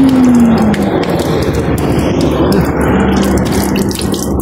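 Cold mountain water pours and splashes in a steady, loud, close rush, with a faint tonal hum at the start and no talking.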